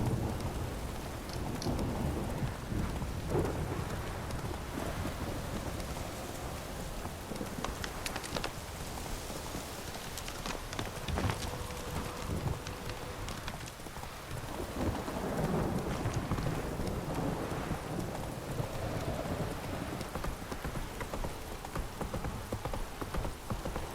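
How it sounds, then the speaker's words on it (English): Steady, heavy rain pours down continuously in the video game The Witcher 3, with occasional rumbles, a dense wash of noise filling the whole stretch without pause. "This downpour's a bastard, it is."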